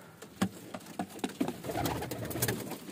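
Golden pigeons kept by a breeder coo up close. Sharp wing claps and flutters sound in an irregular burst, followed by low continuous cooing.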